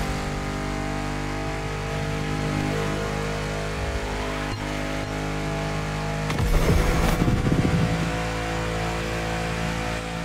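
A Citroën GT from The Crew Motorfest cruises the cleared boulevards of Honolulu toward the freeway, a steady engine drone heard from inside, with a brief louder swell near the end and no talking.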